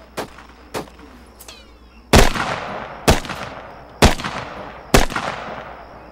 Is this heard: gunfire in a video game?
yes